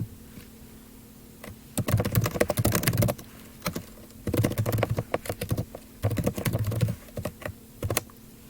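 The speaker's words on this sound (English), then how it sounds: "enter your message at the bottom the same way you would in the reception area, by typing where it says Start Typing." Chat message typed on a computer keyboard, quick close key clatter in several bursts separated by short pauses, heard alone.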